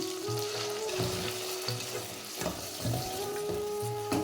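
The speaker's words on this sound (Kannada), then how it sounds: "ಇದು ನೀಟಾಗಿ ಫ್ರೈ ಆಗಬೇಕು" Ground chili paste frying in a pan for an avarekai and karimeenu sambar, a close continuous sizzle with soft periodic scrapes and stirs, no voices.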